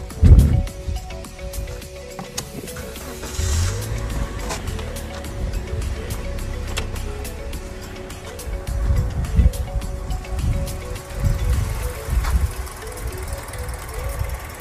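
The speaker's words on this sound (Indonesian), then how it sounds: "Nah, ini suara dari mesin Avanza dengan kode mesin 1NR Dual VVT-i." A manual 2016 Toyota Avanza's 1NR Dual VVT-i engine idles nearby with a low, uneven rumble and a faint rapid ticking running through it, fluctuating slightly over time.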